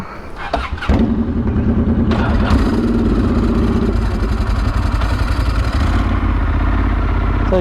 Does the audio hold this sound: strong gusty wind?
no